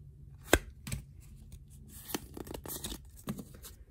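Tearing open a Pokémon card booster pack from the Vivid Voltage set; sharp foil rips and crinkles come in a few quick bursts, close and fairly quiet, with no speech.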